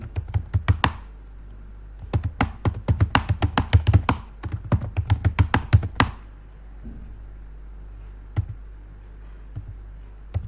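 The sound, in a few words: typing on a computer keyboard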